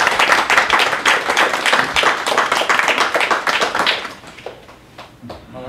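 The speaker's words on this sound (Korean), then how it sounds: "정혜정 씨를 좀 힘찬 박수를 좀." An audience at a book launch event claps vigorously in a lively burst of distinct handclaps, which thins out and dies away to a few scattered claps near the end.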